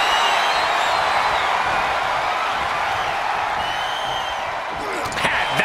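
Arena crowd noise from the WWE 2K24 wrestling game during an Elimination Chamber match, a steady broad roar that holds throughout with commentary talk running over it, plus a few sharp impact thuds near the end.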